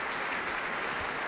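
Dense, steady applause from a concert-hall audience for a composer on stage after a radio chamber philharmonic performance, a continuous wash of many hands with no gaps.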